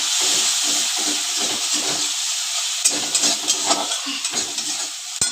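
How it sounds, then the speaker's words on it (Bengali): Water poured into frying spice masala in a pan: a loud steady hiss and sizzle of steam bursting up, then bubbling with a few scraping stir strokes, close by. "একটু জল দিয়ে দিলাম মশলাটার মধ্যে"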